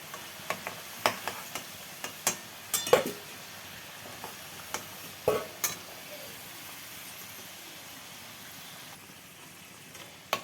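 Fried potato pieces for a chicken curry being lifted from hot oil in a pan, a run of sharp metal clinks and scrapes from the spoon against the pan over a faint background sizzle, then quieter.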